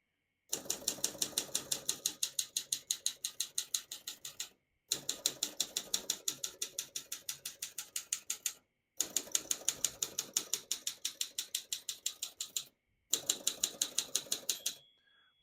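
A 1952 Olympia SM2 vintage portable typewriter clatters through four bursts of rapid, evenly spaced key strikes, each separated by a brief pause, and the small margin bell dings once near the end, close and clear.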